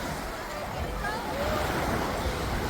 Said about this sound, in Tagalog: Sarap maglakad dito sa tabing dagat.